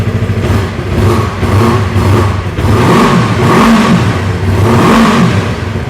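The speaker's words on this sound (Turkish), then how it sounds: "Motorun normal sesi bu arkadaşlar." A 250cc Arora GP racing motorcycle engine with its stock exhaust revs repeatedly, rising and falling in several loud throttle blips over a rough idle, recorded close.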